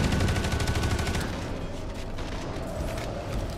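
Gunfire in the sci-fi shooter Space Hulk: Deathwing: rapid, rhythmic automatic bursts that rattle loud and close in the first second and a half, then continue as a denser, more blended fusillade with booming echoes.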